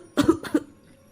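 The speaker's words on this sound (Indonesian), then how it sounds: "terdengar suara orang batuk ketika pintu gudang itu tertutup" A person coughs twice in quick succession, close and fairly soft, against a quiet background in a horror story narration.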